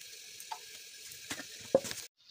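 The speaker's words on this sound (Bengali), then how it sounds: "এখন দেখো মাছের চুলোর দেখো পটল আর আলু ভেজে নিচ্ছি" Pointed gourd and potato pieces fry in a pan with a steady bright sizzle and a few clinks of stirring, then cut off abruptly near the end.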